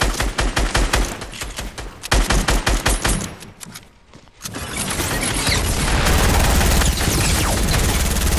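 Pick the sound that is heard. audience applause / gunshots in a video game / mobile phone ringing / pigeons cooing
gunshots in a video game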